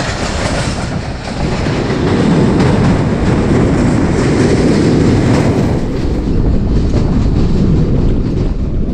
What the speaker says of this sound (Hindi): अभी आई है ये ट्रेन 130 डाउन प्लेटफार्म नंबर 3 में आई है।